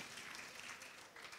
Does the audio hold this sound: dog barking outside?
no